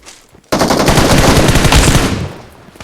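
A sudden loud burst of rapid automatic gunfire in the PUBG Mobile game bursts in after a brief quiet and rattles on for about a second and a half before tailing off.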